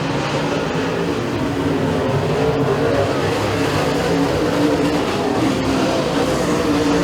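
Race cars roar around a dirt oval track during a heat race at Freedom Motorsports Park, a loud continuous engine drone from several cars blending together without a break.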